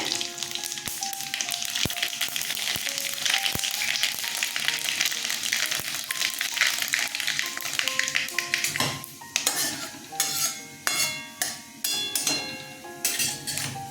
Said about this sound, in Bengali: তেল গরম হয়ে গেছে তেজপাতা দিয়ে দিলাম আর লাল সর্ষে দিয়ে দিলাম ফোড়নে